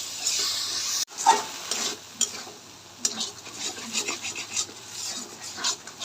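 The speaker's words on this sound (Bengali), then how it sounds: "ভালো করে মশলাটা কষিয়ে নেব।" Spices cooking down with tomato paste in a pan for fish curry, a steady close sizzle with repeated scraping stirs, one sharp clatter near the start, no talking.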